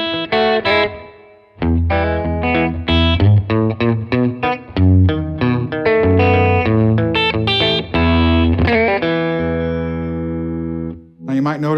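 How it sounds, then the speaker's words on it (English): Fender Custom Shop 70th Anniversary Broadcaster electric guitar played with bridge and neck pickups blended, bright clean notes and chords in a lively riff, close and loud with no talk. "Now you might notice that bridge and neck sound is a little different than a normal Tele."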